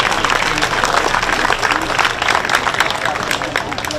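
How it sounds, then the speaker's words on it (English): Audience applause at a junior livestock show, a steady wash of clapping filling the arena at full volume for the whole stretch, with voices mixed in. "Let's give them all one more nice round of applause."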